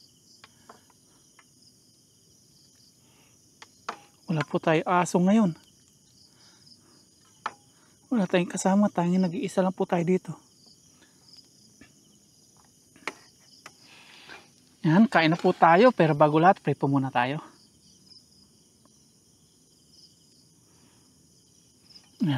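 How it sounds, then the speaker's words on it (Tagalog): Crickets chirp steadily through the night at a solo overnight campsite in Nueva Ecija, a continuous high trill running beneath intermittent bursts of someone talking. "Tanging naririnig lang po natin kuliglig."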